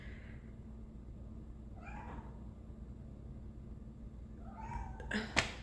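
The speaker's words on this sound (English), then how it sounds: "And my cat's meowing." A cat meows indoors, with three or four separate faint, drawn-out calls spaced a couple of seconds apart over a low room hum, followed by a brief louder clatter near the end.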